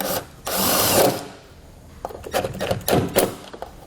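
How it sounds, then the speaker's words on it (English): A power driver runs a self-tapping screw into a panel on a 2020 Chevrolet Equinox, two short whirring bursts, the second choppier and ending as the screw snugs down, close and fairly loud. "we're just going to be running a self-tap screw right into the panel located here"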